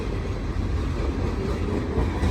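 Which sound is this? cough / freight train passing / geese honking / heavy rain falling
freight train passing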